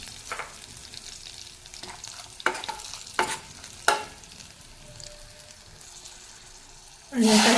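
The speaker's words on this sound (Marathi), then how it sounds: "आता आपण जे खोबरं आणि जिरे ते आपण परतून घेऊया." Coconut and cumin sautéed in oil in a kadhai, a soft sizzle broken by several sharp scraping stirs, with a sudden louder burst of sizzling at the end.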